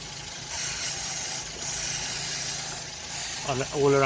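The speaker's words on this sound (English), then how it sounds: "so we're gonna clean the surface with brake cleaner" Bursts of pressurized brake cleaner spray hiss in on-and-off spurts around a Toyota Yaris front brake area over a steady noisy background, with a voice starting to talk at the end.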